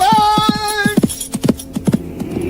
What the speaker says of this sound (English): My mighty horse must be ridden swiftly.